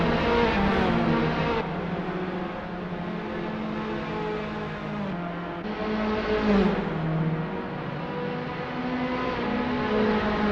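A Tatuus FA01 open-wheel race car in Assetto Corsa, club racing at Barcelona, holds a loud, buzzing high-revving engine note close by, with sharp gear changes shifting the pitch through the clip.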